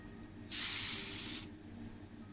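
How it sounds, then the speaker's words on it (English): Tamiya Fine Surface Primer in white is sprayed from a can onto a die-cast Matchbox 1957 Thunderbird body, one smooth hissing burst of about a second against a quiet background. "So I'll make sure this casting now gets into the Tamiya Fine Surface Primer in white."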